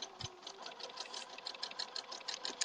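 A domestic sewing machine stitches a log cabin quilt in a steady run of rapid, even needle strokes, close and continuous, with no talking.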